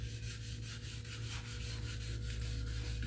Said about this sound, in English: by sanding between the coats